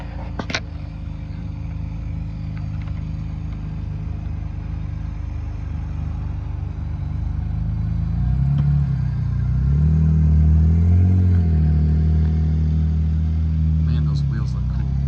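A race car with a freshly rebuilt transmission idles and then pulls away with a deep, rumbling engine that swells and revs through low shifts, close by and loud, while people talk.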